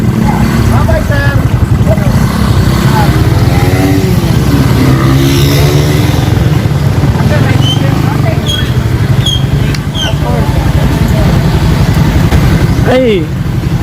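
Motorcycle engine labors uphill in first gear near Tagaytay, a loud, close, buzzing drone whose pitch rises and falls with the throttle, while people talk over it.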